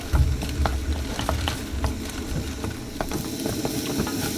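Two eggs frying and being stirred into chicken fried rice in a hot pan outdoors, a steady crackling sizzle with scraping stir strokes and light utensil clicks, close and continuous with no talk.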